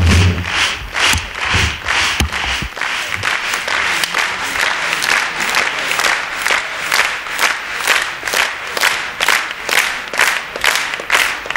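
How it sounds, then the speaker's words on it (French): Studio audience at a 1979 televised game show final applauding, steady rhythmic clapping from a crowd that keeps going throughout, loud and even with no voices on top. "je crois que vous avez bien fait de les applaudir comme ça"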